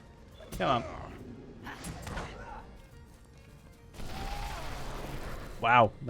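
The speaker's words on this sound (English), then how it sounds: "Wow, that was an explosion and a half." Explosion in The Lord of the Rings video game: a broad, noisy blast rolls on for about two seconds, followed by a sharp bang near the end, with scattered game effects and thuds earlier.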